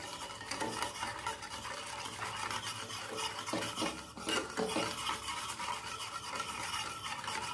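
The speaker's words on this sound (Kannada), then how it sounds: "ಎಲ್ಲ ಹಾಲಲ್ಲಿ ಸಕ್ಕರೆ ಮತ್ತು ಹಾಲಿನ ಪುಡಿ ಕರಗಬೇಕು, ಅಲ್ಲಿಯವರೆಗೆ ಮಿಕ್ಸ್ ಮಾಡ್ಕೊಳ್ಳಿ" Milk with sugar and milk powder is stirred in a pot for a summer drink, a continuous close scraping and swishing of a spoon against the metal pot, with light clinks.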